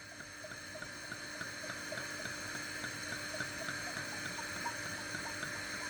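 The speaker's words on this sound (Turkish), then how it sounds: "Hamurun üstüne geçecek kadar sıvı yağ ekliyorum." Vegetable oil poured into a frying pan on the stove for churros, a continuous soft liquid stream with a light trickling texture over a faint steady hum, no speech.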